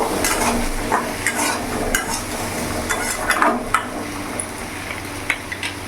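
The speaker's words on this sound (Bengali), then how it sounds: "এবার ভালো করে নাড়াচাড়া করে নেব।" Fish head stirred with turmeric and chili powder in a hot pan for an ilish-head and taro dish: a steady scraping of spoon against metal over a continuous oily sizzle, with occasional sharper clinks, close and alone.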